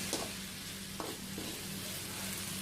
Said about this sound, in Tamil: சைடில் வந்து நம்ம தக்காளி வெங்காயத்தை இன்னும் நல்லா சாஃப்டாக வதக்கிக்கலாம்.